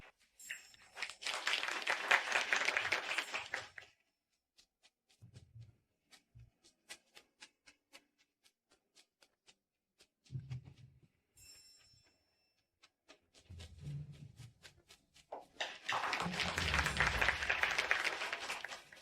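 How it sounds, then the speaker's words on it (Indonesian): Two bursts of crowd applause at a wedding as the bride is welcomed to the stage, one at the start and a louder one at the end, separated by a quieter stretch of scattered ticking and thumps. "Mari kita berikan tepuk tangan."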